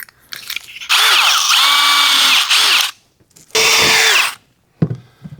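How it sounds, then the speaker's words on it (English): A power drill drives screws to mount a game controller, whirring in three loud bursts with pitch rising and falling as each screw seats, short pauses between runs. "Let me get my screws in there"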